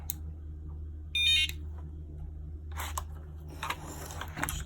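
Nash Siren RS1 fishing bite alarm gives one short, loud electronic beep over a low steady hum, followed by scattered clicks and handling noise.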